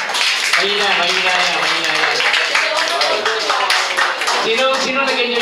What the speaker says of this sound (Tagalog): Isa pa ang malakas palakpak para kay God.